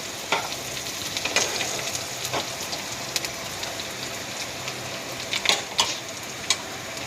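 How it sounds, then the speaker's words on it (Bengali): Onions frying in a pan for a rohu fish curry with curd, a steady close crackling sizzle with occasional louder pops and stirring scrapes, no voices. "পেঁয়াজটা মোটামুটি আমাদের হয়ে গেছে, আর একটু ভাজা হবে"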